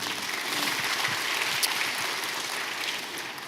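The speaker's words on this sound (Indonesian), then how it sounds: "Berikan tepuk tangan kita untuk dia." A church congregation at a Sunday worship service claps steadily, a dense wash of hand claps at moderate level lasting throughout with no voices on top.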